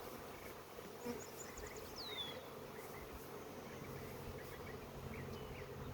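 Honey bees buzz steadily as they are gently brushed off a hive frame during queen grafting, a faint, dense drone with occasional louder passes nearby.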